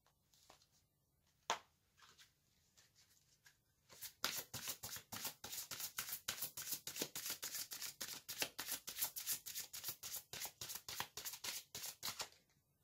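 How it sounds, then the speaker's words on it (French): Tarot cards are shuffled close up in a long run of rapid, crisp riffling flicks, after a single sharp card snap and a few soft handling sounds at the start. "Je vais tirer une seconde carte"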